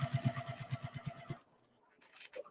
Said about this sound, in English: I need my foot pedal. So I'm just going to chain sew.